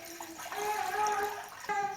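Water, two and a half cups, pours steadily into a pan for Kashmiri chai, a continuous splashing stream with a rising filling tone that briefly breaks and then resumes near the end.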